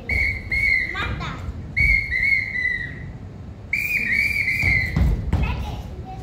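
Shrill whistle blasts in three distinct bursts, loud and close, with thumps and children's voices between them.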